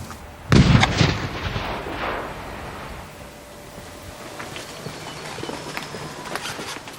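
A single loud explosion goes off at an army bomb-disposal training center, a sharp close blast that rolls into a long fading rumble and debris clatter over several seconds.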